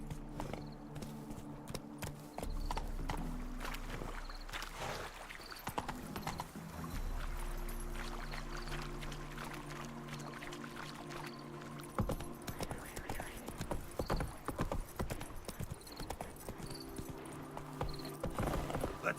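A horse gallops in The Witcher 3, its hooves clip-clopping in a quick, steady rhythm alongside game music and ambient tones, with an occasional brief whinny.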